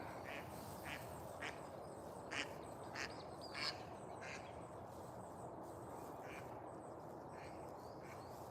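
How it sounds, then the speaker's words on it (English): A duck quacks repeatedly in a suburban park, the calls distant and faint over a steady roar of outdoor ambience and wind, with several louder quacks clustered partway through. "That was a duck."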